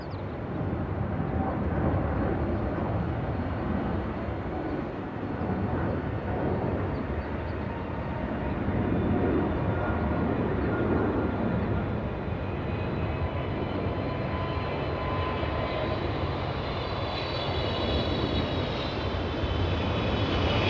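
An airliner takes off from a runway at LAX airport, a steady, broad engine roar that holds constant for about twenty seconds without breaking off.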